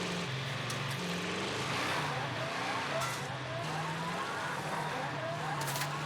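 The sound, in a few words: vehicle driving in Warzone video game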